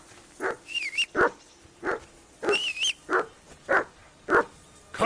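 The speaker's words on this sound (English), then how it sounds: "Whistle at that mutt of yours to stop barking!" A dog in the video game Kingdom Come II Deliverance barks steadily, with about nine loud, evenly spaced barks close by and a couple of high whining tones mixed in.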